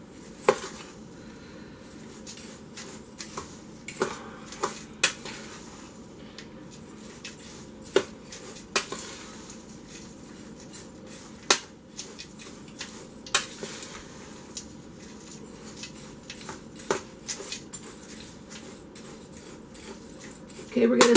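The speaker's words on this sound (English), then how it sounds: "Give it a nice good stir." Homemade granola mixture is stirred in a bowl, producing repeated light clinks and scrapes of a utensil against the container at an irregular rhythm, close and fairly quiet over a soft background hum.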